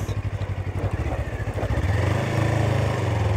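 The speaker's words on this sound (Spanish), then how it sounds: "Y la moto sigue y sigue y sigue y sigue." A Suzuki V-Strom 250 motorcycle engine chugs with a steady low pulse off-road, then settles into a continuous louder drone as it keeps riding, close and unbroken.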